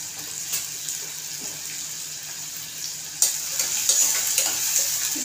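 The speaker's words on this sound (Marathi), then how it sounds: "तेल टाकलं की आपल्याला कांदा टाकायचा." Chopped onion frying in hot oil inside a pressure cooker gives a steady, bright sizzle with a few sharper spits and crackles toward the end, close by and without talk.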